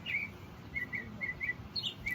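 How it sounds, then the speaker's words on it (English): Birds chirp outdoors on a morning, with short repeated high tweets spaced through the clip over a low steady background rumble; the calls sound moderately near and no one speaks. "Birds chirping."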